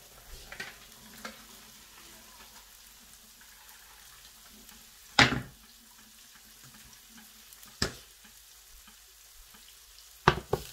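Paprika and onions fry in a pan with a quiet, steady sizzle, broken by a few sharp clacks of a utensil against the pan at irregular intervals.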